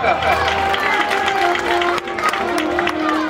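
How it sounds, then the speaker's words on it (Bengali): Applause and cheering from a school audience at an annual function, continuous and busy with clapping, mixed with voices and a steady tonal hum from a sound system. "এর জোরদার হাততালি আগাম একটা"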